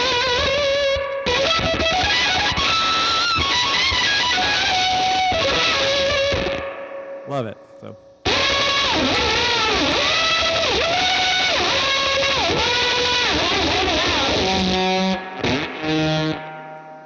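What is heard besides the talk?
guitar through Gamechanger Audio Light Pedal with drive and drip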